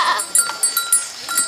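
Several Etawa crossbreed goats bleat in quick succession at a farm in East Lampung, Indonesia, high and nasal, from close range.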